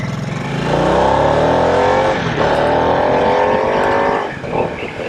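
A Harley-Davidson Nightster Special motorcycle, 90 horsepower and 481 pounds wet, revving hard through rising gear pulls, a loud close engine roar climbing in pitch, dropping at shifts, then climbing again.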